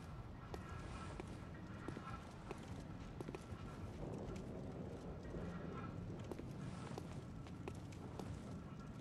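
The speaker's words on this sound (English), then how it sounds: "I hear footsteps everywhere." Footsteps in the video game Bloodborne, a quiet, steady patter of repeated steps over low ambient rumble, faint and continuous.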